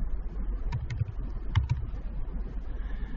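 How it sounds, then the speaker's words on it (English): Computer keyboard typing, a few quick soft key clicks in two small pairs over a low background hum, close and quiet. "So I'm going to type the word extract"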